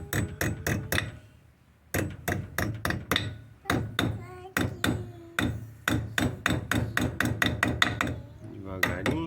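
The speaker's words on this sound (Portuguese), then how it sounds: "dá uma batidinha aqui, depois só vem batendo, conformando ela aqui pra travar" A hammer taps the rear wheel nut on a VW Beetle (Fusca) with many sharp metallic strikes in quick bursts of three to six, close and loud, broken by short pauses.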